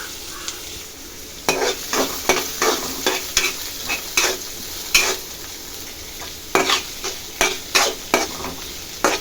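Onions for pasta sizzle steadily in a pan while a utensil scrapes and stirs in a regular rhythm, about one stroke every half second.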